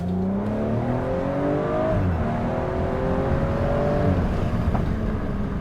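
A BMW M135i engine revs up and down repeatedly, its pitch climbing and dropping in steady sweeps, with a sharp exhaust pop near the end under a constant road rumble.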